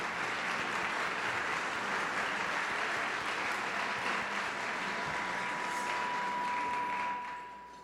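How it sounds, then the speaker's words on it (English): Sustained audience applause fills a City Club gathering for the State of the City address with Mayor Charlie Hales, a steady dense wash of clapping that fades out near the end. "Please join us in a round of applause."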